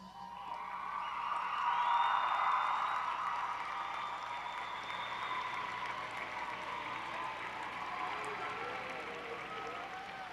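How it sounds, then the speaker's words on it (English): Graduates at a high school commencement ceremony stand and applaud their parents and support groups, a broad wash of clapping with some whoops that swells in the first few seconds and then holds steady through the end. "give your parents and support groups a nice round of applause."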